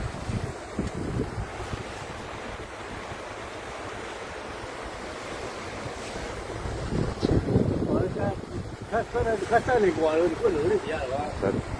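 Strong wind roars across the microphone with waves and surf churning nearby; a voice speaks toward the end over the gusty noise.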